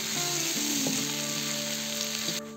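Zucchini and eggplant fry in a kazan over a campfire, giving a steady, close sizzle that runs evenly for a few seconds with faint tonal background hum.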